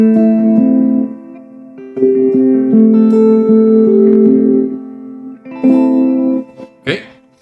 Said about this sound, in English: And then the reverb is a shimmer reverb.